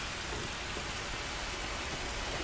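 Steady rain falls in The Last of Us game, a dense, even hiss of drops on surfaces that holds at the same level throughout, with no voices over it.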